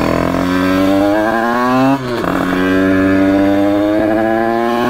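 A motorcycle engine fires up close by and rises in pitch as it revs and pulls away, a steady harmonic drone that dips briefly in the middle before climbing again.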